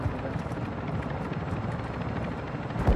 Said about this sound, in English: Chopper's coming in.